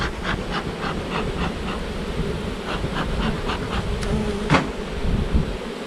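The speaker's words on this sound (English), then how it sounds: "We're going to brush the bees off of these 3 frames that we got set over the side" Honeybees swarming over hive frames while the hive is smoked, a loud, dense, continuous buzz close by, with a few faint knocks underneath.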